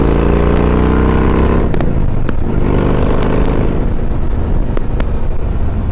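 Kawasaki motorcycle with a 2.0 liter engine accelerating hard, loud and close: a rising engine roar that drops with a quick gear change, then climbs again, with sharp clicks over the steady drone.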